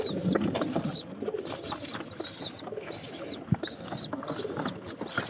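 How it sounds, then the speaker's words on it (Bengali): Pigeons coo while feeding their young, repeated soft cooing phrases in a steady rhythm with brief pauses, close and clear against a quiet background. "কবুতরে কিন্তু খাবার খাওয়াইতেছে।"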